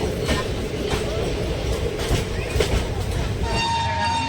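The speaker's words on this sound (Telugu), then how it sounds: "పక్కన వెళ్తున్న ట్రైన్ పూరి వెళ్తుంది" A train bound for Puri from Bariwal rolls past near Khurda Road Junction, a steady rumbling wash of wheels and carriages heard from an adjacent train, with a thin high squeal toward the end.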